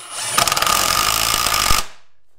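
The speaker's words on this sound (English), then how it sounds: "I just replaced the bit and got that drilled" A power drill fitted with a new bit bores into framing lumber for basement walls, a brief, loud, close burst of about a second and a half of rapid grinding whir that cuts off abruptly.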